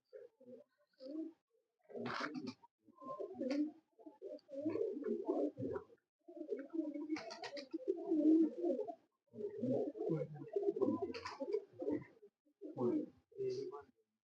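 Domestic racing pigeons from a long-kept champion line coo in repeated soft, throaty bursts close by, with short pauses between phrases.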